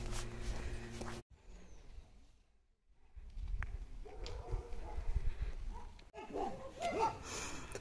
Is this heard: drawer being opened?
no